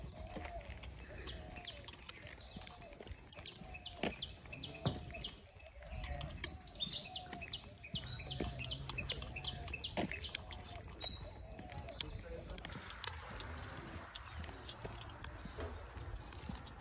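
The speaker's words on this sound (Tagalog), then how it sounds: "Maririnig mo yung mga huni ng ibon." Birds chirp and call intermittently on a quiet morning outdoors in Sri Lanka, with sharp tweets scattered throughout and faint background noise.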